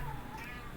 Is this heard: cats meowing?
yes